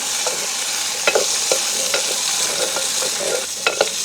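Onion, garlic and green chili frying in a pan over a village cooking fire, a steady close sizzle with a spatula scraping and clattering through the mix several times.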